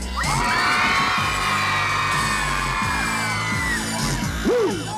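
A concert crowd at a Hungarian pop show screams and cheers loudly, shrill whoops and yells swelling together in one sustained roar, with a few sharp bangs and shouts breaking through near the end.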